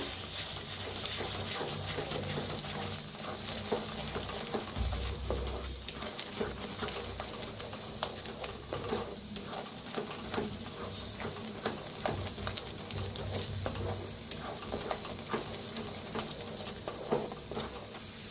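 Chicken masala and red chilli powder roast in hot oil with a steady, faint sizzling crackle that continues evenly throughout, with no voices.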